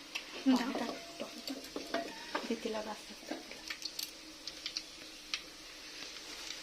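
Whole chilli goes into a pan for handi chicken, followed by quiet stirring: irregular utensil clicks and scrapes against the pan over a faint sizzle.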